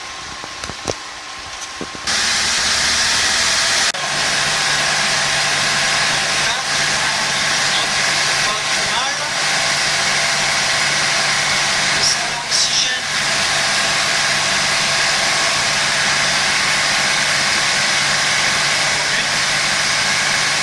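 A car engine held at slightly raised revs during a P0171 fault diagnosis, giving a steady, even drone that runs unbroken for the length of the clip.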